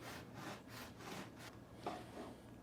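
A knife sawing through a baked Italian biscotti log, several quiet back-and-forth strokes with a dry, scraping rasp, heard close and alone.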